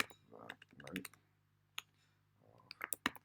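Short bursts of quick clicking keystrokes on a computer keyboard as text is typed into a design program, with near, crisp taps separated by a quiet pause.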